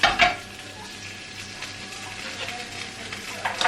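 Smash burger patty sizzling in a pan that isn't truly non-stick, a steady close crackling fry with a couple of brief louder spatters at the start and end.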